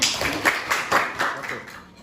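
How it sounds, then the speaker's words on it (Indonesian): A class of students clapping hands, several uneven bursts of claps mixed with voices in a classroom. "Oke, sudah bagus kelompoknya Berlian dan Rolian, tepuk tangan."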